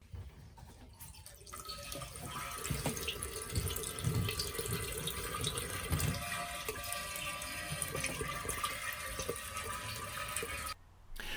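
Water runs steadily from a tap into a narrowboat's water tank, a continuous rushing splash that carries on without a break for several seconds, with no talking.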